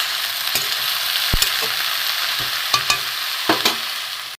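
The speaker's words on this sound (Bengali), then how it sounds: "এখানে আমি নুন দিয়ে দেবো নুন দিয়ে একটু নাড়াচাড়া করে দেবো" Cabbage and bottle gourd greens with salt being stirred in a hot pan for a vegetarian chorchori, a steady close sizzle punctuated by several sharp scraping and clinking strokes of the spatula, with no voices.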